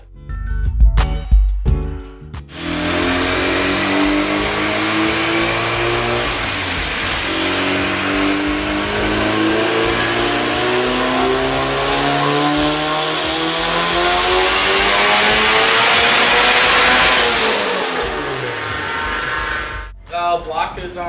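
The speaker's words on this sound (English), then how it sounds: "Just basically getting it running, breaking the new motor, built by Randy" Turbocharged Honda Civic EF with a freshly built, sleeved GSR engine and Garrett GT35R turbo, revving loud and close in a long sustained pull that climbs and falls, after a few short blips at the start.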